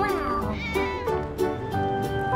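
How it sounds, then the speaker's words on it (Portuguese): Cat meowing inside the GTA 5 video game, several plaintive, pitched meows in quick succession over a steady musical background, fairly loud and close. "Ah, gatos!"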